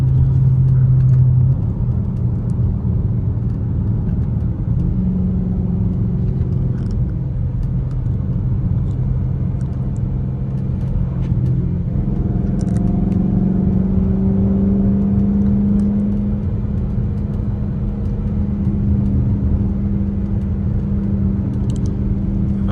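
A Chrysler 300S accelerates on paddle shifters, its engine droning with a deep, continuous rumble from inside the car, rising in pitch through the later half with audible gear changes.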